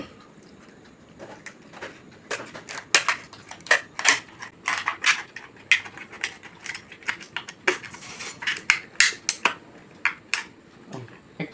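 A plastic cold drink bottle being cut into flower petals, a fast irregular series of crisp snipping and crackling clicks, close and fairly loud, continuing steadily throughout.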